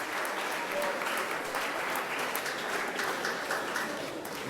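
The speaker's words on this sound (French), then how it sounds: "On peut applaudir pour le professeur de Jean-Marie." An audience applauds a professor with steady, sustained clapping filling the room at an even level throughout.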